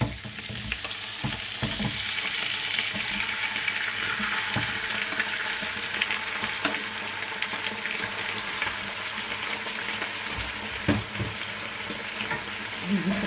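Turmeric-marinated chicken wings frying in hot oil for a chicken curry, a dense, continuous crackling sizzle up close with occasional stirring clatter throughout.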